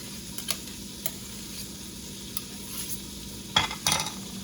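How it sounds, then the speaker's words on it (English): Butter makes a soft sizzle in a pan with a few light clinks and scrapes of a utensil, quiet and close, growing busier toward the end. "you hear that butter? That butter is going in there."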